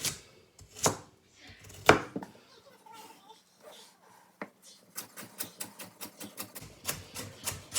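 A knife chops vegetables on a board for pea and ham soup: a few scattered knocks at first, then a quick, even run of sharp close taps near the end, with no talk.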